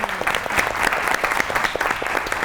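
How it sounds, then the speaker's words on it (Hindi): A talk-show studio audience applauds two guests with dense, steady clapping throughout, loud and close. "दोनों मेहमानों के लिए बहुत ताली होनी चाहिए"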